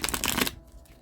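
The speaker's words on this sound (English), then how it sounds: "Actually, I guess I'm going to give it 2 more shuffles." Tarot deck being shuffled by hand, a rapid papery riffle of cards lasting about half a second, close and fairly loud, then stopping into quiet room tone.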